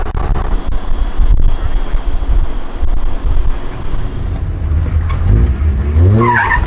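A Mazda Miata engine roars and revs hard during a clutch kick amid steady wind buffeting, with a rising, wavering whine building near the end.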